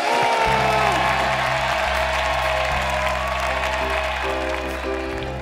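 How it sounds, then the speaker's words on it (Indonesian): A studio audience on a TV celebrity talent show claps steadily, with loud, continuous applause running throughout while sustained music plays underneath. "Tepuk tangan dulu."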